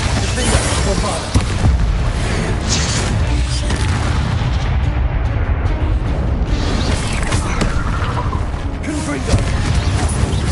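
Bombarda spell explosions in Hogwarts Legacy, loud booming blasts and crashes over a constant dense battle din, with a voice calling out amid the clamor.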